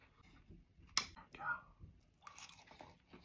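Close, quiet crunchy bites and wet chewing of pickled jalapenos, a few crisp snaps in a short burst with soft mouth noises around them.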